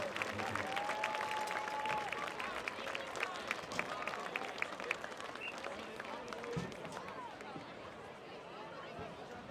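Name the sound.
audience applause for the marching band seniors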